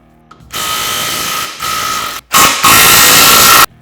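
Power tool removing nuts from the radius arms on a Polaris RZR Turbo S trailing arm, loud sustained whirring bursts close up, a short run, a brief pause, then a longer harsher run, with no talking.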